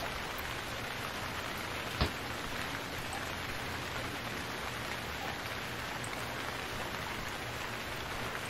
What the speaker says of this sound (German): Jetzt kommt hier der Regen.